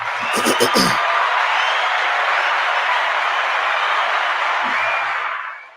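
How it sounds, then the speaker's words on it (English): Loud, dense audience applause and crowd cheering that holds steady for several seconds, with a voice briefly audible at the start and again near the end. "Let's give everybody a round of applause."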